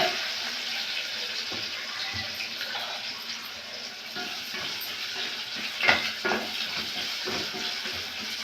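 Soft, steady sizzling of sliced onions frying in a pan with occasional stirring scrapes, fairly quiet and close, with a small clink partway through.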